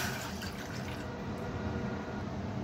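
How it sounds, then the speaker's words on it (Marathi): A glass of water is poured into a kitchen pot, giving a continuous splashing, gurgling rush at close range that keeps an even loudness throughout, with no voices. "ते एका भांड्यात मी 1 ग्लास पाणी घेतलंय,"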